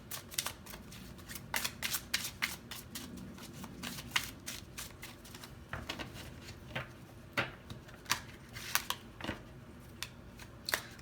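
Playing cards being drawn and shuffled at close range, a run of sharp riffling snaps and soft slides in irregular bursts with quiet pauses between them, fairly faint overall.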